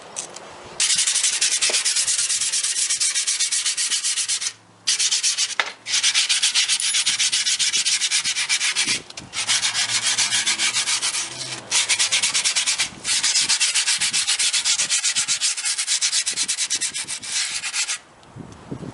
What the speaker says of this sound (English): And if you feel like that sanding's not enough